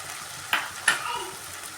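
Mustard and poppy seed paste goes into a hot frying pan with two quick close splats, then a soft, steady sizzle settles in while cooking with okra and Malabar spinach.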